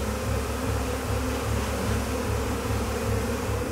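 A dense swarm of bees drones steadily and loudly at close range, a continuous buzzing hum with no speech.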